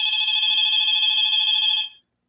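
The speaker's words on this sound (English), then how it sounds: "Well, that's our phone," A telephone rings in one continuous electronic trill lasting about two seconds, loud and close, then cuts off into silence.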